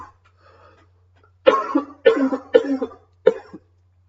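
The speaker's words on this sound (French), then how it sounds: "J'en tousse carrément." Four harsh coughs in quick succession after a near-silent start, close to the listener, with a faint low hum underneath.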